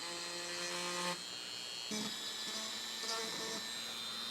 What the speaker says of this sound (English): So I'm going to do that with this Dremel, and I'm using just the sanding end